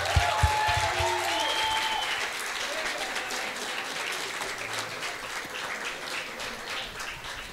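Sustained applause from an audience fills the clip, steady and moderately loud, with a few voices briefly audible at the start.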